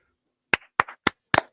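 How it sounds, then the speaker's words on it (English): Four sharp hand claps in a quick, slightly uneven sequence, close and dry after a moment of silence, sounding like a small, sparse round of applause. "Round of applause"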